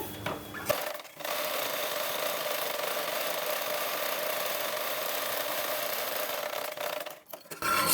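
A sewing machine running a long basting stitch along a blouse seam, a steady continuous whirring drone that starts after a brief pause, holds evenly for several seconds, then stops with a short gap before resuming.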